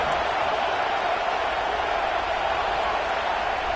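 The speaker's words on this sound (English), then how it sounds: "Listen to this crowd just shaking the girders of this place" A football stadium crowd roaring during a Florida versus Texas A&M game, a steady, dense wash of cheering voices filling the whole clip at moderate loudness.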